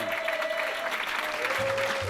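An audience at the Don Camilo cabaret applauds its 60th anniversary with a steady, full wash of clapping that fills the room, while a thin sustained tone runs beneath it.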